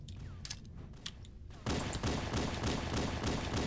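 Rocket launcher fire and explosions in a Halo 1 Slayer match on the Prisoner map: scattered shots at first, then a sudden loud, sustained burst of blasts and gunfire from about midway on, dense and continuous.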